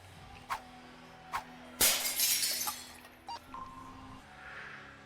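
Glass shatters in a video game heist: a couple of light clicks, then a sudden bright crash of breaking glass with scattered tinkling fragments that fade into quiet room tone.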